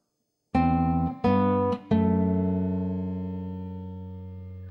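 Measure 30 of Minuet in G on acoustic guitar, three plucked notes or chords in quick succession with the final one sustaining and slowly decaying, close and unaccompanied.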